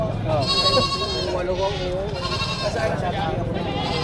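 Several goats bleat repeatedly, close by, their wavering cries overlapping with people talking nearby at a livestock trading market in the Philippines.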